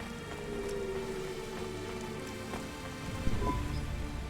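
Steady rain falls continuously in the video game Cloudpunk, a dense, even hiss that carries throughout with a slight swell near the end and no voices.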